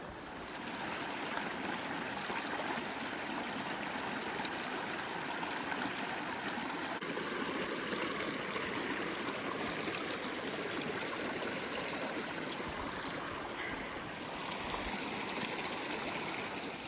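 A creek beside a hiking trail near Conifer, Colorado flows in a constant, even rush of water that stays steady and fairly close, with no voices.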